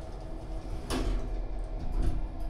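Sliding doors of a Morris Vermaport lift glide shut, a soft swish with a faint thud near the end over a steady low hum, heard close with no talk.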